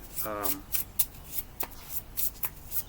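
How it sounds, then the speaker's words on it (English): Playing cards are riffled and shuffled in quick bursts of crisp, papery flutters and taps, close by, with a short spoken sound near the start. "So we'll pull out the deck. And we'll shuffle them."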